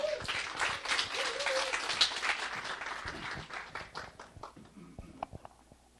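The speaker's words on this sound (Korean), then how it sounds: "안병현 로얄 사장님을 큰 박수로 모시겠습니다" Applause from a conference audience welcoming a franchise manager to the stage at a Saturday business seminar, a sustained wash of many hands clapping that gradually thins out over six seconds.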